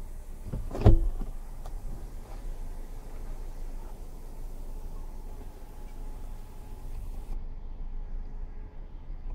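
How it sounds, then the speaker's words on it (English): 2019 GMC Acadia SLE-2 panoramic sunroof power-sliding back, a soft, steady motor whir in the cabin that follows a brief clunk at the start and runs for several seconds, with no talking. "But you do have the panoramic roof. So let's go put this back a little bit."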